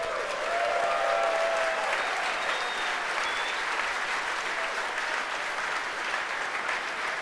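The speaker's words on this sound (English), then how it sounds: "You can hear the applause behind me as we've gotten past maximum dynamic" Staff in a rocket launch control room applaud after the vehicle passes maximum dynamic pressure, a steady, even wash of clapping heard slightly in the background, with faint tonal sounds flickering early on.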